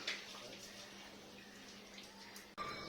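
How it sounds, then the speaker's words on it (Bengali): Water pours steadily onto a tulsi plant, making a continuous soft splashing hiss at moderate distance that briefly stops near the end and then resumes. "পাপা তুলসী গাছে জল দিচ্ছে"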